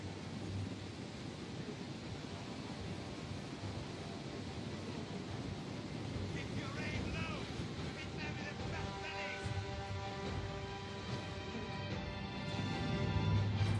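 Rain pours steadily over a battlefield in the Total War: Rome II strategy game, a continuous hiss with low thunder rumbling underneath that grows somewhat louder toward the end.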